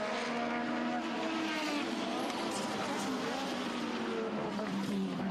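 1980s Formula 1 cars at the French Grand Prix, with Piquet overtaking Prost on the outside: a loud, continuous high-revving engine scream whose pitch slides and shifts as the cars pass.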